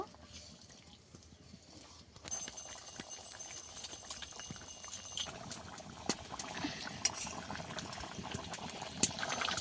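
Tuna fish curry with a cumin and mustard paste bubbles in a pot, faint at first then growing into a busier simmer of soft pops and gurgles, with occasional louder clinks.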